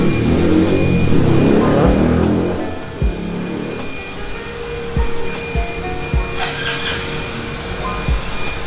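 A Honda Super Cup C125 motorcycle engine churns loudly with a noisy starter, then settles into a lighter, uneven running sound with clicks and rattles close by.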